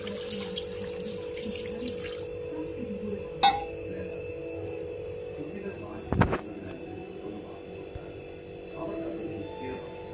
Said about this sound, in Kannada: ಈಗ ನೀರು ಹಾಕ್ತಾಯಿದ್ದೀನಿ